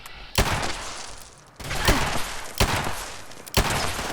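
Pistol gunfire in the video game Fallout 76: four sharp, loud shots spaced roughly a second apart, each trailing into noisy impact and echo, with no talk over them.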